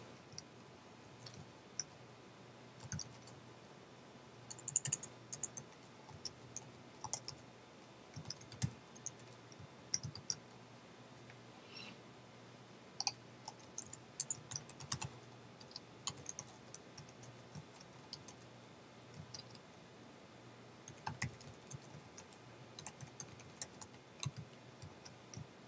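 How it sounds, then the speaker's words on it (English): Computer keyboard clicking as code is typed, faint irregular bursts of small key taps spread over the whole stretch with brief pauses, alone in a quiet room. "I'm going to type this out a little bit"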